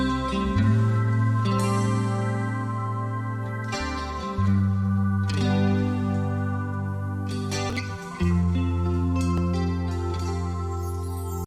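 Electric guitar run through effects in a cover song, with long sustained chords ringing over deep held bass notes, changing every few seconds in a slow, lush progression with no voices.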